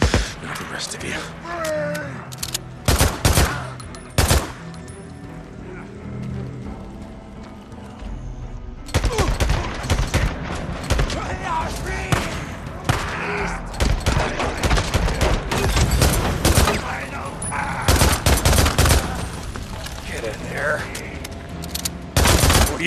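Bursts of gunfire in the video game Days Gone, rapid automatic volleys and single shots at an ambush camp, loud and close, broken by brief lulls, with a voice talking between the shots.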